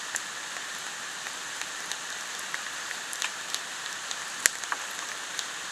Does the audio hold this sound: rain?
yes